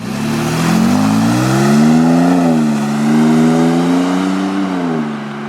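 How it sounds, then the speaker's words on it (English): Jeep Wrangler JL fitted with a Magnaflow exhaust accelerating past in a drive-by, its engine note rising and falling in pitch as it passes close and loud, with no talking. "We're gonna get a quick drive-by as I just step out of the Jeep."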